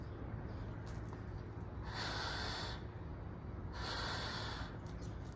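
Two deep rescue breaths are blown in as airy rushing bursts during a basic CPR demonstration, each lasting about a second against a steady background hiss, close and with no speech.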